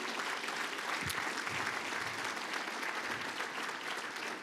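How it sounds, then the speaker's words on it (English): Audience applause at the Apopka State of the City address, a dense, steady wash of many hands clapping at close range that holds evenly loud for the full few seconds, with no talking over it. "Let's give another round of applause for Mayor Bryan Nelson."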